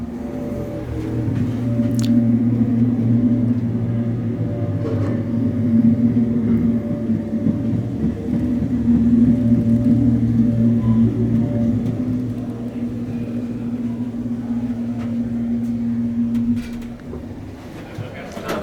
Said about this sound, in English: I'm just doing a video of the elevator, that's all. I'm just taking a ride.